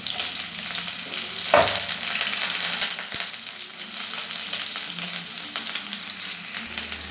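Onions and green chilies fry in hot oil for a Rayalaseema country chicken curry, giving a continuous loud sizzle with a couple of clattering stirs and knocks.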